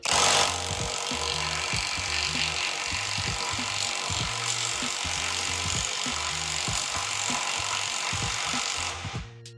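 A GISAM 1800Nm cordless impact wrench in third gear on its largest fully charged original battery strains against a nut, a loud continuous buzzing hammer with a steady rapid rattling pulse that cuts off at the end.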